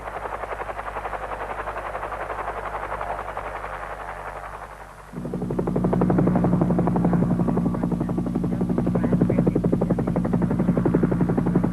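A helicopter's rotor thumps steadily and loudly while supporting tunnel construction at the Freeport mine, with a brief dip before the engine drone swells closer and stays strong, no voices.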